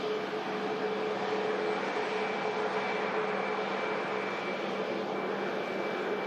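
A Turkish Airlines Boeing 737 Max jet at Manchester Airport gives off a steady, distant engine roar with a faint whine, even and unbroken throughout, with no talk.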